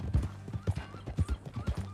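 Horse hooves clip-clop in a steady, close walking rhythm in the Red Dead Redemption 2 video game, heard on their own with a faint undertone.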